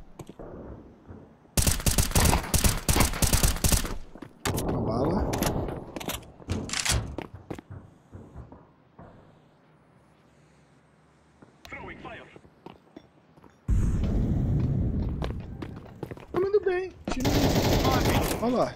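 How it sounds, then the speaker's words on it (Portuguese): Bursts of M4 automatic rifle fire in Counter-Strike, two long loud volleys separated by quieter stretches of talk and shuffling, plus a few single shots. "esse tiro da M4 ali, ele te gruda, né?"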